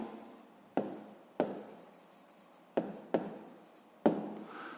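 A pen writes an answer by hand, with six sharp strokes landing at irregular intervals, each trailing off into soft scratching, close and quiet.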